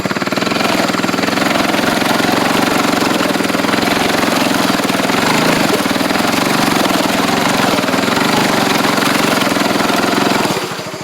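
A homemade vehicle's engine runs in second gear, a loud, steady, droning mid-pitched roar that holds constant for about ten seconds before easing off at the end, with no talking.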